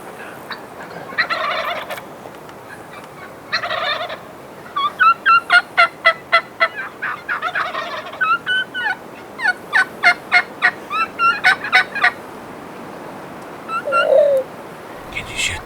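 Rio Grande wild turkeys gobble repeatedly from a moderate distance in Oklahoma, bursts of rapid warbling calls mixed with softer clucks over a quiet outdoor background.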